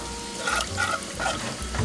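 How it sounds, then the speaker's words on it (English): Milk goes into a pan of garlic, butter and flour on the stove, setting off a steady close-up sizzle and frying hiss with light stirring, and no voices. "we're gonna put in just about 2 cups of milk"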